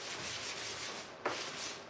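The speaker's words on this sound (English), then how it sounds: "You're just going to take your sanding block" A hand-held sanding block scuffs a piece of furniture before priming in a steady, continuous rasp with one brief louder scrape, and no talking.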